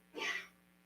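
A single short, fairly quiet sneeze bursts out during a calm Tai Chi class, brief and breathy, with no other sound around it.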